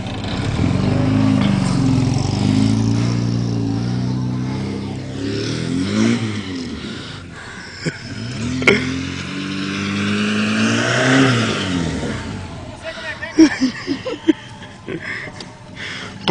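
A car engine revs hard and rises and falls in pitch as the driver performs a handbrake turn, loud and close, with people talking over it and a few sharp knocks toward the end.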